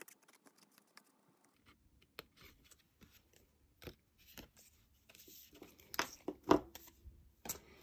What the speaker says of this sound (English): I'm going to fussy cut out that side of the mailbox